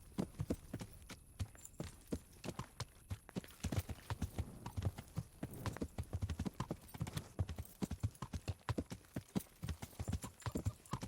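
Horse hooves clip-clop in a steady walking rhythm in the video game Kingdom Come: Deliverance, crisp and fairly close, continuing evenly throughout with faint background noise.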